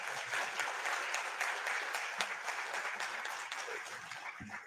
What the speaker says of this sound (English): Please join me in applauding the Honorable Minister for his interventions this morning.